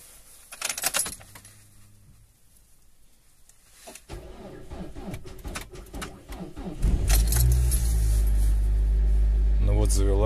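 A car engine in severe frost cranks and catches around seven seconds in, then settles into a steady low idle; someone talks quietly beforehand amid clinks and faint birdsong.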